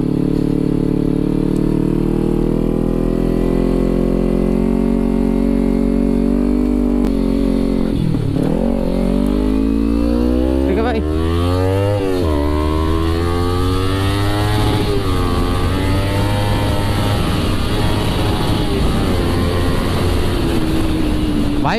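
A Kawasaki Ninja motorcycle engine hums steadily while riding on a road in India, then revs up in rising, sweeping surges; loud and close throughout.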